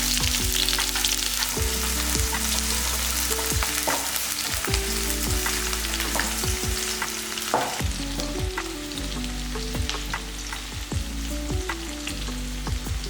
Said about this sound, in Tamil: இதில் ஒரு கைப்பிடி அளவுக்கு சின்ன வெங்காயம் போட்டுக்குவோம்.